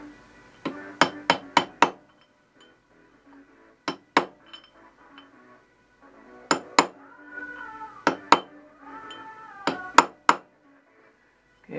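Sharp metallic hammer blows strike a drift to bend over a tab washer on a KTM 640 motorcycle during mainshaft bearing repair, coming in quick clusters of ringing taps with pauses between, close and clear.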